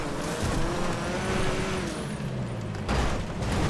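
The engine of a Stinger sports car in a video game strains uphill, a loud continuous roar with rising and falling engine tones and a gritty driving rumble throughout, no talk.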